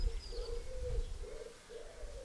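A pigeon coos in low, repeated rounded notes in a garden, faint and steady, with a brief distant bird call near the start.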